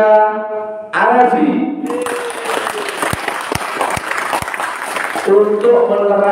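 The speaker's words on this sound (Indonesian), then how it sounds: "Kita sambut dengan tepuk tangan yang keras ya." Loud applause rises from an audience gathered for an Islamic religious talk, welcoming a guest speaker; dense clapping runs for several seconds between stretches of a voice.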